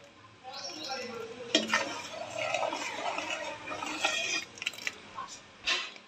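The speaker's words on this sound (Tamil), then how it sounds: "அடுப்பை ஸ்லோவாக வச்சுட்டு எடுத்து வச்ச தயிரை கொஞ்சம் கொஞ்சமாக சேர்த்து மிக்ஸ் பண்ணணும்" A spoon stirs curd into hot milk for homemade paneer, giving soft, steady scraping and swirling sounds close by, with occasional clinks against the pot and a person talking over it.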